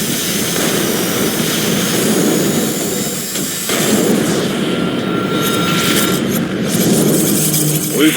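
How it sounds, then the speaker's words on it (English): Jet fighters arriving in the video game X-Morph: Defense, a loud sustained roaring rush of engines with a brief dip midway, then continuing strong alongside game effects, no speech. "Jet fighters, ETA 3 seconds."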